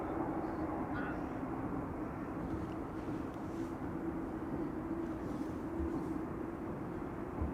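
An American Airlines Boeing 787 Dreamliner on arrival at Amsterdam Schiphol, a steady broadband jet roar with a low engine hum that holds constant and moderately loud throughout, with no talk.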